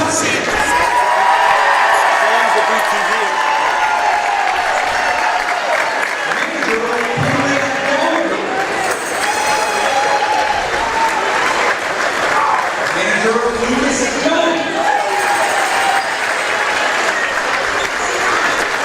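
A packed gym crowd at a high school boys basketball game applauds loudly and steadily, with cheers and shouts mixed into the sustained clapping.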